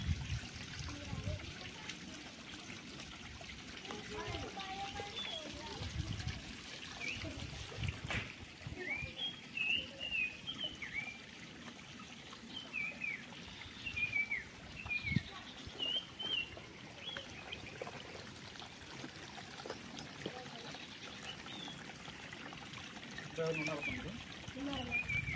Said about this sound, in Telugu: ఇక్కడ వాటర్ పైనుంచి వస్తున్నాయి ఈ విధంగా